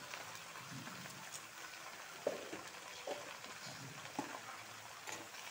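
Vegetables frying in a pan, with a steady low sizzle and crackle throughout and a few soft knocks as they are stirred.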